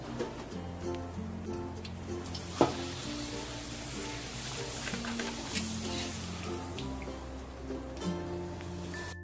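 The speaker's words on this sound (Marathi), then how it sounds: "आता आपल्याला कुरवडी आणि पापड तळून घ्यायचे." Kurdai and papad frying in hot oil for a traditional Gudi Padwa meal, a steady close sizzle with crackling bursts and a sharper pop near the middle, over a faint tonal hum in the background.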